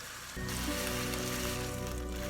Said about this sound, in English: So our beef is getting all ready for the sizzle happening.